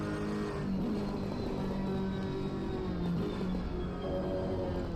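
Race car engines drone continuously around Bathurst in a PS5 racing game, a dense, steady engine roar with shifting pitch from several cars and no one talking.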